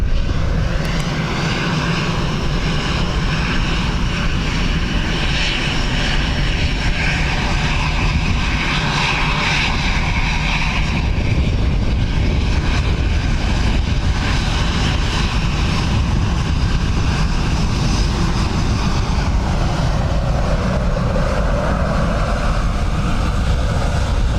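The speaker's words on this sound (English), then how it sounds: "So our 777 from Dubai is next." Boeing 777 at Dublin Airport, a loud continuous roar of jet engines that holds steady and close throughout, with no talk.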